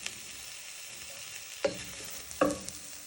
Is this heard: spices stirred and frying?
yes